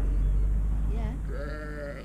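Lambs drinking milk on a farm bleat in a couple of wavering calls over a loud, steady low rumble.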